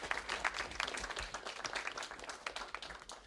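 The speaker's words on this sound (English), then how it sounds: "And clap for Gary." Audience applause for the moderator at a science café debate on the future of GMOs, scattered claps fairly faint and steady throughout, with a hint of voices underneath.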